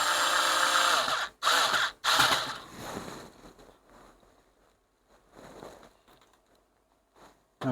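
A power tool drives screws back into a Sony TC-K461S cassette deck under repair, giving two short loud whirring bursts near the start followed by quieter intermittent tool and handling sounds.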